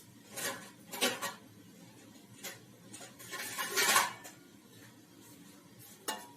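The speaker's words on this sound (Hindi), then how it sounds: "इनफैक्ट मैं इसको एक प्लेट में डाल ही देती हूँ।" Utensils clink against a plate as potato dhokla is placed onto it in a home kitchen, a few quiet scattered taps and scrapes with soft clatter, no talking.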